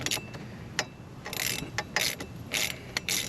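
Ratchet clicking as it drives an Allen bolt through a Torx bit on a Can-Am Ryker during OEM floorboard installation, in short bursts of crisp ratcheting with brief pauses, close up with no talking.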